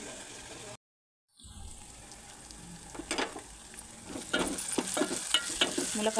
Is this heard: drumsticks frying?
yes